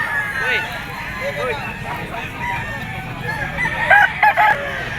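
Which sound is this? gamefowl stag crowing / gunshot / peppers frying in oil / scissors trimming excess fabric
gamefowl stag crowing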